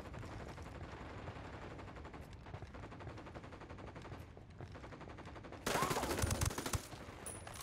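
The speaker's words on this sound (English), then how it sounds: "Okay. Open fire." Gunfire from the Ghost Recon Wildlands video game: steady, dense automatic bursts run throughout, rising to a louder, harsher volley near the end, with no talking.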